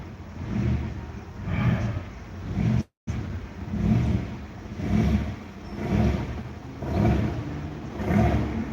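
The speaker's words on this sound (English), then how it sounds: "And I got this pulsing Camaro." A Chevrolet Camaro engine revs in a repeating pulsing pattern, rising and falling roughly every second, with a brief dropout partway through.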